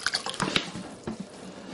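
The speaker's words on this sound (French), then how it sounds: "Ensuite, je mets du vinaigre blanc." White vinegar poured into a container, a short burst of faint splashing and dripping liquid sounds close by.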